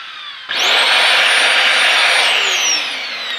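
A Dyson DC04 vacuum cleaner switches on after a short pause and runs loud and steady at full suction, a dense, even roar with a high whine that eases slightly near the end.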